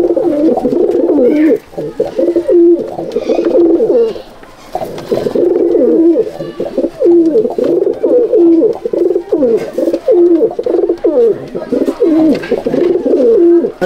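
Pigeons in a loft coo continuously, a loud, close chorus of low throaty rolling calls overlapping one another, with brief dips and a few faint chirps.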